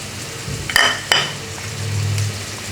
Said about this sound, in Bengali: মাগুর মাছ ভুনা করতেছি এই কারণে এর মধ্যে পেঁয়াজ ভেজে নিচ্ছি